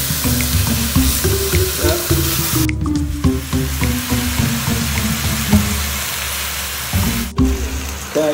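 Pork pieces frying in a pan for adobo, a steady dense sizzle and crackle throughout with occasional stirring clatter, close and continuous with no talking.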